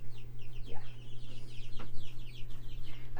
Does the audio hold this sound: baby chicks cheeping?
yes